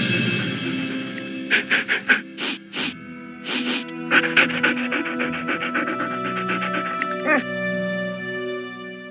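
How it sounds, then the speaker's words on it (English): A dog in the Nancy Drew: Ghost Dogs of Moon Lake game pants and breathes in quick, rhythmic bursts, close up, over a steady musical drone with no talk. "Hey, girl, you're not vicious, are you? No, you're a nice doggy."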